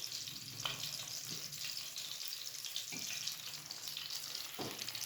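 Cabbage rolls shallow frying in a little oil, giving a steady soft sizzle with a few faint clinks and stirring sounds, no voices.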